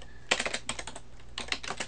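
Fingers typing on a computer keyboard to search eBay, heard as two short, quiet bursts of rapid, light clicking keystrokes.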